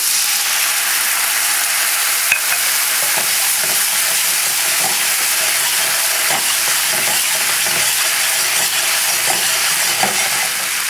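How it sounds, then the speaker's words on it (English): White wine bubbles and hisses steadily as it reduces over high flame in a pan with shrimp, a constant loud close sizzle with faint occasional scrapes and clicks, no voices. "So now we'll put the white wine. Let that reduce to nothing."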